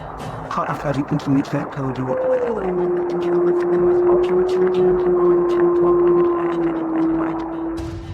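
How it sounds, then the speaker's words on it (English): A long, sustained wolf howl rises then holds a steady tone for several seconds, with people talking before it and faint voices continuing beneath. "A lone wolf's howl pierces through their conversation"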